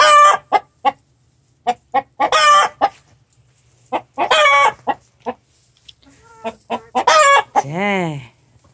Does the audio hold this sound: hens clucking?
yes